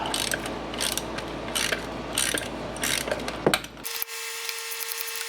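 Ratchet wrench turning large bolts while removing the 4-speed transmission from a 1978 Corvette, rapid close clicking in bursts, then a sudden shift to a steady mechanical whine.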